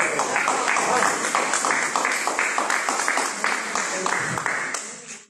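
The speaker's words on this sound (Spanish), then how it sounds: "un aplauso también para Willy Urcos" Forum audience applauding steadily throughout, a close, lively patter of clapping that tapers off at the end, with a voice speaking over it.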